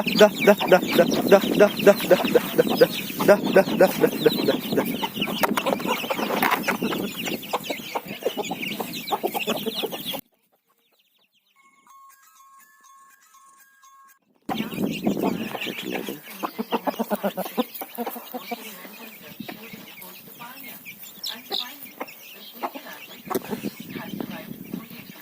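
Aseel chickens cluck and a three-kilogram Aseel rooster calls nearby, with people talking over the birds; a brief near-silent gap falls partway through before the clucking resumes.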